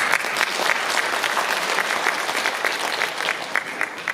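A crowd at a civic festival in Pocheon, celebrating the Dobongsan–Pocheon rail line, applauds an introduced guest. Sustained, dense clapping from many people stays loud and even with sharp individual claps poking through.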